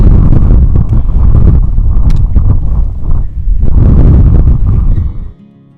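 Strong wind on an exposed hilltop along the Continental Divide Trail buffets the microphone in loud, gusting rumbles, briefly easing midway before surging again and cutting off abruptly near the end.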